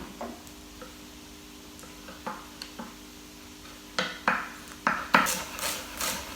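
Knife dicing beet greens on a chopping board: faint, irregular taps that quicken into a run of sharper cuts toward the end, quiet kitchen with no talking.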